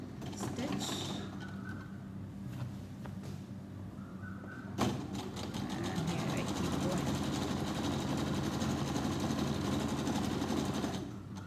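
A sewing machine runs steadily close by, stitching a double seam on a curtain loop, with a brief start, a sharp clunk near the middle, then a long continuous whirring drone.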